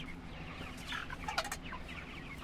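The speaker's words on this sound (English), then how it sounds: "So here we have our broilers. This is our newest chicken tractor." Broiler chickens in a chicken tractor cluck and murmur softly at close range, with scattered short calls over a low steady background.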